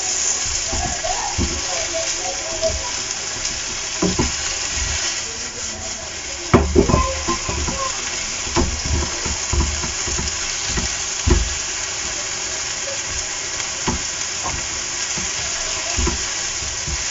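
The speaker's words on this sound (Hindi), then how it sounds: "अभी जो चिकन का पानी निकला हुआ है इसको करना है आपने ड्राई।" Half-cooked chicken fries in a pan as its released water cooks off, giving a continuous sizzle broken by scraping stirs and clanks, while a person talks over it.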